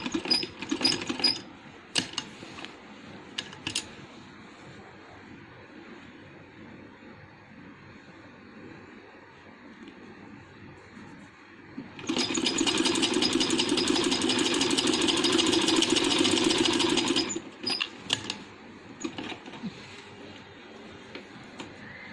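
A sewing machine stitches the folded belt of a handmade baby boy's dress. A low, uneven mechanical hum and ticking rise into a louder continuous run of about five seconds, then fall back.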